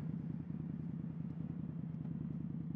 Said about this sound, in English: This exhaust is pretty loud, so I'm trying to tone it down for the deer.